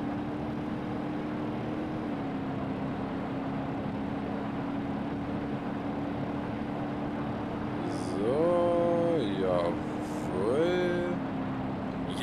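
Rocket-propelled car on a highway in BeamNG.drive: a steady engine drone runs throughout, then rising and falling whooshing rocket tones surge in twice near the end.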